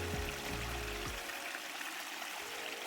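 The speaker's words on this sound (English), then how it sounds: "The sound is that deep babbling brook area." Deep babbling of a backyard pond waterfall feeding a brook, a steady close wash of running water that fills the short stretch without pause.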